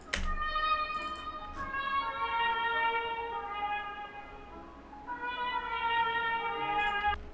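A dry brass sample from a sample bank plays sustained, harmonically rich tones in two long held phrases, with a brief attack at the start and a new entry around five seconds.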